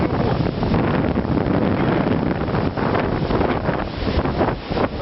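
Strong wind buffets a tent camp in March, a continuous loud roaring gust noise battering the microphone throughout with surging swells, no talking.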